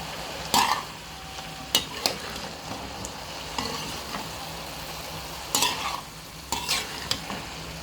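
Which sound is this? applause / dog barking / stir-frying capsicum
stir-frying capsicum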